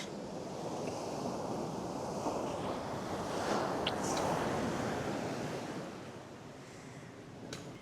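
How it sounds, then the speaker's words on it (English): Ocean waves at Laguna Beach, California roll in as a steady broad wash of surf with wind noise, swelling midway and easing toward the end, with no talk. "Right here, look at the waves."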